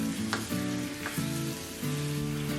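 Fish pieces frying with three chopped medium tomatoes and curry leaves for a Kerala-style fish tomato roast, sizzling steadily in the pan while being stirred, with scraping strokes at intervals and no talk.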